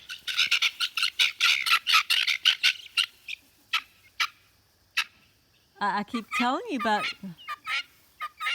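Guinea hens on an evening homestead give repeated harsh, rhythmic alarm calls, loud and close, with a person talking over part of the racket.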